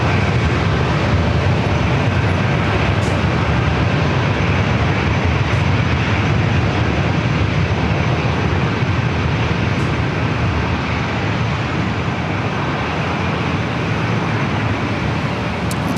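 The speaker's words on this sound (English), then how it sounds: "This Alaska flight heading to Phoenix, flight 1208." Alaska Airlines jet on flight 1208 to Phoenix at San Diego airport, a loud, steady, broadband engine roar with deep rumble that holds unbroken and close for the whole stretch.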